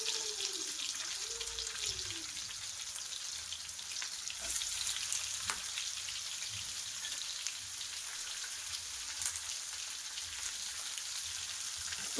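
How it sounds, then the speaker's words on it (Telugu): Onions frying in a pan for a leafy amaranth stir-fry, giving a steady close sizzle and crackle that holds on evenly throughout, with no talk. "ఇప్పుడు ఈ ఆనియన్స్ బాగా ఫ్రై అవ్వాలి"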